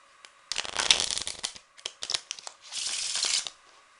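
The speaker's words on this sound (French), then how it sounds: "On peut mélanger le paquet." A deck of playing cards is cut and shuffled during a card trick, giving a few quick riffling bursts of close, crisp card flutter separated by short pauses, with a longer steady riffle near the end.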